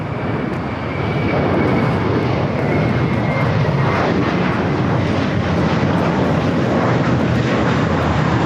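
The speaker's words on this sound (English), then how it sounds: "Taking off to Fort Lauderdale, JetBlue Flight 100. It's an A321." JetBlue Airbus A321 taking off from LAX runway 25 right, a loud sustained jet engine roar building quickly and holding steady as a dense rumbling wash with no talk.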